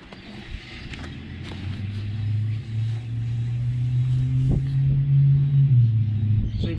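An off-road camper's wheel, freshly serviced with new bearings and brakes, spins freely on its hub, giving a steady low whirring rumble that builds slightly and holds for several seconds with no grinding or knocking.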